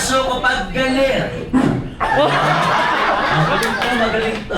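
A person imitating an angry dog at a first birthday party, giving rough growling barks and yips with a voice amid loud party noise, laughter and talking crowding around the imitation.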